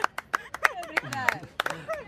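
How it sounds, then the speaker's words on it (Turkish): Small group of people clapping at an outdoor picnic party with a barbecue, a few quick uneven claps mixed with cheerful voices and chatter close by. "alkışlıyoruz arkadaşlar"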